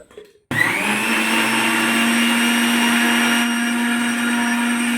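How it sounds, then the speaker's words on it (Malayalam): A mixer grinder blends pineapple with sugar and water, starting after a brief quiet moment and then running as a loud, steady, close-up whir with a high motor whine for the rest of the clip. "ജസ്റ്റ് മിക്സിയിൽ പൈനാപ്പിൾ എല്ലാം ഇട്ട് പഞ്ചസാരയും പിന്നെ കുറച്ച് വെള്ളം കൂടി ചേർത്തിട്ടാ ജ്യൂസ് അടിക്കണേ കേട്ടോ"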